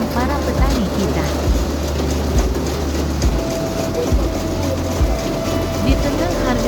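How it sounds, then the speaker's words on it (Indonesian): A combine harvester works a rice paddy during the harvest, its steady mechanical rumble and clatter running continuously and fairly loud, with brief voices mixed in. "memanen padi menggunakan mesin Combine Harvester"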